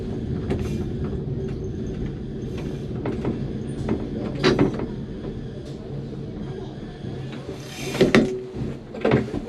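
Christchurch tram in motion between stops, a continuous low rumble with rattles and metallic clunks and squeaks throughout, louder bumps near the end, heard from on board.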